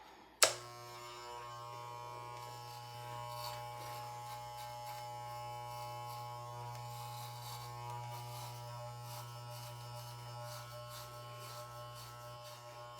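Electric hair clippers set to a half-inch guard run with a steady close buzz and hum for the whole stretch, starting with a sharp click, with no speech over them.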